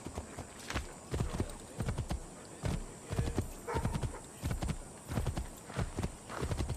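Horse hooves clip-clop in a steady galloping rhythm in Assassin's Creed 3, regular thuds repeating every half second or so, fairly close and alone with no talk over them.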